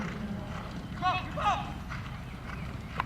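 Hooves of a small brown polo pony clip-clop across the field during a polo match, a quick run of muffled thuds with a couple of faint whinny-like tones, under a commentator's voice.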